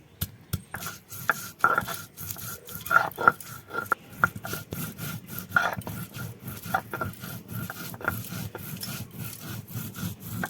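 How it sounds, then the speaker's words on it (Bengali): Spice paste ground by hand, with repeated rough rubbing and scraping strokes in an uneven rhythm and occasional sharper knocks, close up and alone. "এদিকে আমি মশলাটা বেটে নিই"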